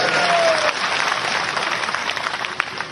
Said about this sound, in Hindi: इनका तो जोरदार स्वागत करो ताली बजा